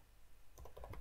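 A brief run of soft keystrokes on a computer keyboard while writing Django code, a quick flurry of quiet, close taps that starts partway through after near silence.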